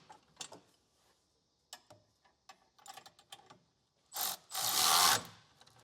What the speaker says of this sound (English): I'm going to use a socket and wrench on the front bolts here.